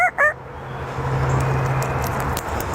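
A parrot mimics a rooster crowing: a drawn-out, low, fowl-like call runs through the middle of the clip over steady background noise, after two short chirps at the start.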